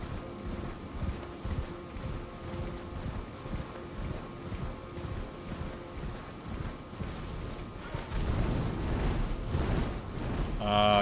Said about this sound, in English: Get off the horse.